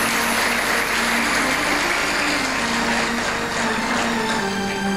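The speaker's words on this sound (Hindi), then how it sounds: "जरा जोरदार ताली बजाइए" An audience claps loudly at a religious katha discourse, a dense, steady roar of applause held evenly for the whole stretch with no voices on top.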